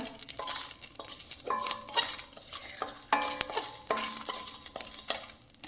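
Ginger pieces with whole green chillies and dried red chillies fry in hot oil for a spiced pea and potato curry, with a steady sizzle broken by repeated scrapes and clinks of a spoon stirring against the pan.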